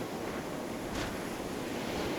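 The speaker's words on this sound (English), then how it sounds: "and now it's heckin' windy" Steady wind blows through a military video game, a dense continuous rush with a slight swell near the middle, fairly loud and without voices.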